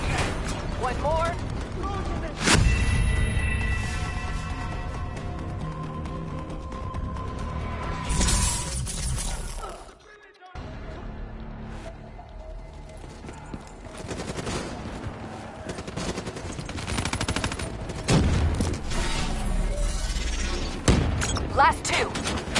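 Loud explosions and gunfire from a Black Ops 3 campaign battle after a detonation, a dense barrage of blasts and impacts filling most of the stretch with a brief drop to near silence midway, speech mixed in.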